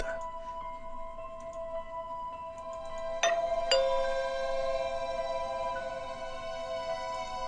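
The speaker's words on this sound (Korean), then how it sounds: "그리고 그때 초인종이 울렸다." A doorbell rings with a bright two-note chime in a dubbed Korean horror radio story. The tones hang and ring out over a steady hiss, with faint ticking before them.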